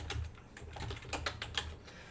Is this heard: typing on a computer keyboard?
yes